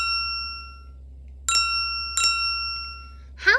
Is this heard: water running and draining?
no